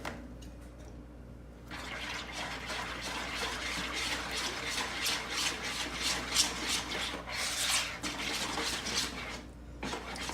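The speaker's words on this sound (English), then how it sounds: "I'm gonna swap the rubber spatula to the whisk." A whisk scrapes and swishes rhythmically through banana nut bread batter in a bowl, close and continuous after a quiet start, then stops briefly near the end.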